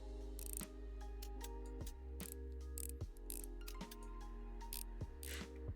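In the video game Restory, screws are backed out of a speaker with a tool, a quiet, steady run of rhythmic ratcheting clicks over a low mechanical hum, with no voices.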